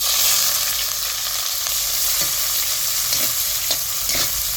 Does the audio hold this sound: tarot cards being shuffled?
no